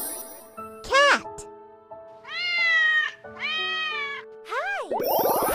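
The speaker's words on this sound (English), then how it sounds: "Cat." A domestic cat meows several times in a row, with drawn-out, rising and falling cries, close and fairly loud, interspersed with a faint jingling.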